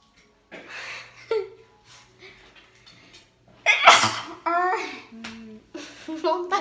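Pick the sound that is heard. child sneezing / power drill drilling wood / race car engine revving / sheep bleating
child sneezing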